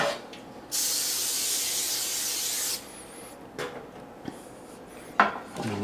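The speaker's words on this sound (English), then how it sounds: "So I'm going to spray this pan over here" Cooking spray hisses onto a pan in one sustained burst of about two seconds, followed by a few light clinks and taps of kitchenware nearby.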